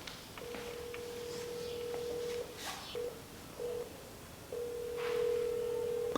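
A phone call goes out, and steady ringback tones sound in long and short beeps with brief gaps between them, fairly clear against a quiet room.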